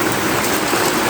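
Heavy rain pouring down during laundry time outdoors, a dense continuous loud hiss with no gaps, close by and without voices.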